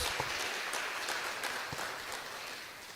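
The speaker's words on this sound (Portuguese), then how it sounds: "Então aplaude o nome do Senhor Jesus" A church congregation claps in praise during a Portuguese-language sermon: a soft, distant wash of applause that stays even and slowly fades.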